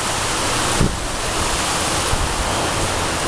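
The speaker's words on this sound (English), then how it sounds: "We're getting some crazy wind too." Strong gusty wind from an incoming storm roars steadily across the microphone, a loud, dense rush with brief buffeting bursts and nobody talking.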